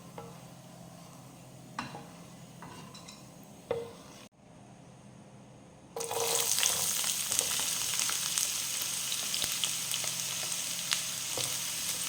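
Onions frying in hot oil after a batch of ginger, a quiet sizzle with a few utensil taps, a brief pause, then a loud, dense crackling sizzle as they hit the oil and keep frying steadily.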